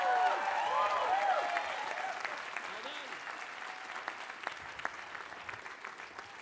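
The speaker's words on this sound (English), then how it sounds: "give one last round of applause for the wonderful Canon class" Applause from a crowd at a medical school class day ceremony honouring the graduating class, loud at first and gradually fading, with voices and whistles mixed in near the start.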